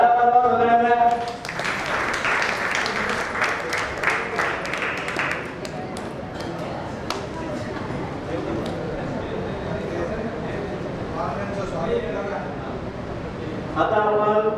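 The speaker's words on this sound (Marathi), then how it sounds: "टाळ्या वाजवा सगळ्यांना." Meeting attendees at a housing society general body meeting in Chembur clap together after a vote, a steady wash of applause that follows a man's speech and continues under talk.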